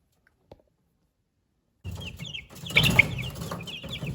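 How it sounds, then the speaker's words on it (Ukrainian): Araucana (Ameraucana) hens and chicks, the blue-egg laying breed, cluck and peep close by in a backyard coop, a burst of soft clucking and high chirps starting after a quiet pause and continuing steadily. "Це курчатка, курочка"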